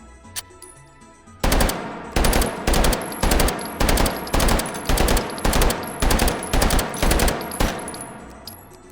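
Burst-fire gun shots in the H3VR virtual-reality shooting game ring out as a loud, sharp series of about a dozen cracks in quick, even succession, each with a brief ringing tail, with no talking.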